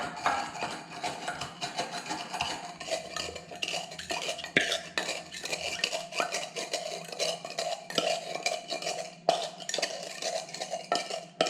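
A masher grinding a sugar cube with bitters in a glass for an Old Fashioned cocktail, giving soft, steady scraping and clinking strokes, close and quiet.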